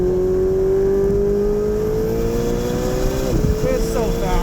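A Gintani-tuned 2018 Ferrari 488 Spyder accelerates on a race track, its engine note climbing steadily then dropping sharply at a shift before rising again, heard from inside with a person talking over it.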